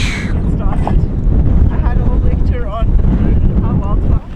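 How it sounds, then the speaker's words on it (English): Cold wind blows across a mountain summit ridge on a trail marathon route. Loud, gusty buffeting roars into the microphone throughout, with faint voices partly buried in it. "Now we're looking for a spot, shelter out of the wind, because the wind is pretty cold."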